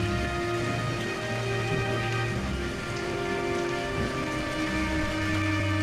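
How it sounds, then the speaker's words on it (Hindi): Heavy rain pours steadily in a dense, unbroken hiss of drops, loud and continuous throughout. "ये तो भयंकर बारिश है"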